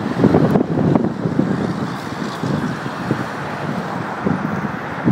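Strong wind blows across a street protest in Austin, a loud, steady low roar with gusty buffeting on the microphone that stays constant throughout, with faint road noise beneath.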